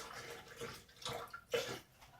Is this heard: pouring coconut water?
yes